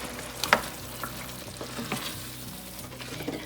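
Tomato puree is stirred into a simmering fish curry in a pan, with soft scraping strokes over a low, steady sizzle. One sharper clink or splash comes near the start.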